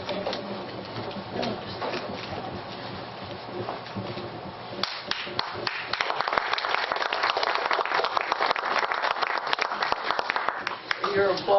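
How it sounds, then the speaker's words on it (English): At a community talk, an audience breaks into applause, starting as a quiet murmur of voices and then swelling into steady, moderately loud clapping that carries through to the end. "You're applauding and I haven't done anything yet."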